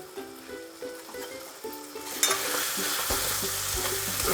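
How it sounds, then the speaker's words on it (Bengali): Mutton curry with spices is sautéed in a pan: quiet scraping strokes at first, then a loud, continuous sizzle takes over with rhythmic stirring underneath. "এবার এটাকে ভালো মতো কষে নেবো"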